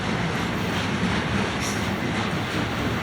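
A Florida East Coast Railway train rolls past close by, a loud continuous rumble of wheels and cars with no break over the whole stretch.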